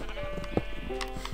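Sheep bleating in Minecraft on Xbox One, a few short game bleats over a steady hum of game background sound, fairly quiet.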